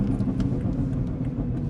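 A BMW S58 six-cylinder engine fitted with a downpipe and tune, heard as a steady low, rumbling drone from inside a moving car, with no talk over it.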